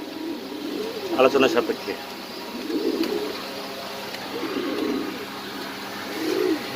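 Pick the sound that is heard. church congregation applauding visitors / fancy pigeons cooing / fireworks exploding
fancy pigeons cooing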